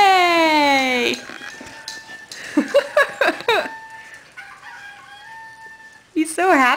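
A shrill rooster-like crow rings out at the start and again at the end, with excited voices talking and laughing in between.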